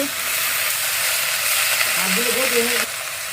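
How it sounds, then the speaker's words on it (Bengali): Vegetables sauté with spices, onion and green chili in a hot pan, giving a loud, steady frying sizzle that runs throughout with no talk over it. "মশলা টসলা দিয়ে সবজি আগে কষিয়ে নেব"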